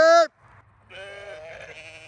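A sheep on a solar farm gives a loud, close bleat, followed by a chorus of softer, overlapping bleats from the flock over a low background rumble.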